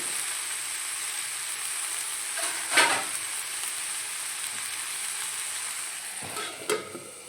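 Sorrel leaves (chukka kura) frying in a pan give off a steady, close sizzle, broken by a couple of brief stirring scrapes, with no voices.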